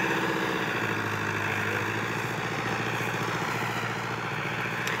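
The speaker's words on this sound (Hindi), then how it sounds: "ओ ट्रैक्टर को देखो यार, इतना सुकून से चल रहा है" An 85 HP Fiat 640 tractor engine runs steadily, with a constant low diesel chug and throb that stays loud and unchanging throughout, with no voices.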